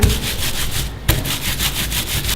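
Hands vigorously rub a dense, tightly felted wool tube, producing loud, rhythmic rasping strokes at close range, with a brief pause midway before the rubbing resumes.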